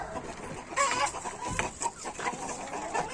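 Leghorn hens cluck and murmur in a garden, with repeated short calls from several birds overlapping at close range and steady outdoor background noise, and no talking.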